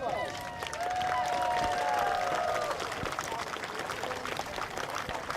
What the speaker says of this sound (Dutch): Graag een groot applaus.